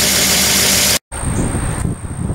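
Ford 351W V8 fitted with GT40 heads idling just after startup, a loud close engine drone with a faint steady high tick riding over the rumble, broken by a brief gap.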